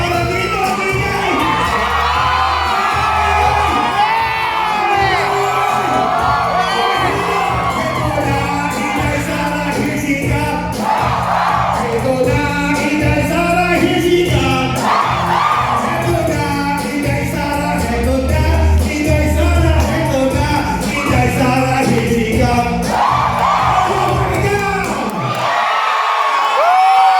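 A packed concert crowd of overseas Filipino workers in Singapore cheers, whoops and shouts without a break, loud and dense throughout, with high excited yells rising above the roar before it cuts off abruptly at the end.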